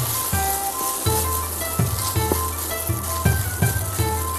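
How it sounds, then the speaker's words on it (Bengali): Noodles for Chinese-style gravy noodles sizzle in a frying pan as they are stirred, with a loud steady fry and repeated scraping knocks of the utensil against the pan at an uneven rhythm. "নুডলসটা আমি এর মধ্যে দিয়ে দিচ্ছি। আমরা যতটা আছে আমরা দুবারে করতে হবে আমাদের। একটু ভালো করে নাড়িয়ে নেব।"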